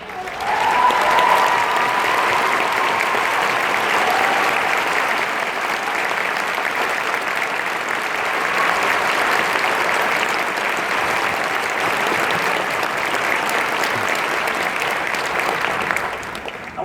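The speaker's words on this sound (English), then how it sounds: "Patrick, I'd like to invite you and your very proud family to stand to our applause." Sustained applause from a large audience at a university ceremony, dense even clapping held at a loud level for the whole stretch, without talking over it.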